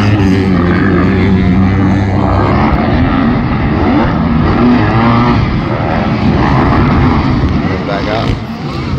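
Several motocross dirt bikes running on a track at Mesquite MX Park during amateur national warm-ups, a loud continuous engine roar with revving passes at close range and no clear talking.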